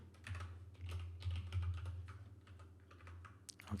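Rapid keystrokes tap on a computer keyboard in quick irregular bursts, close and fairly quiet over a low steady hum.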